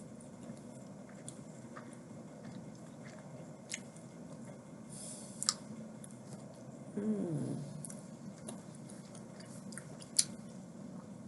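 Chocolate with vanilla cream is chewed slowly and close up in a quiet setting, with soft squishy mouth sounds, a few sharp clicks and a brief wetter burst near the middle.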